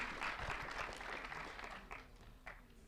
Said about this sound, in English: get a round of applause for that